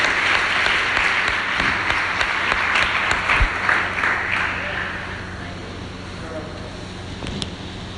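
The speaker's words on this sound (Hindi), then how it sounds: "आइए हम ताली बजाकर डॉक्टर मेरिल का इस मंच पर स्वागत करें।" Audience applause welcoming a speaker onto a church stage, loud dense clapping that gradually fades toward the end, with a few sharp bumps near the microphone.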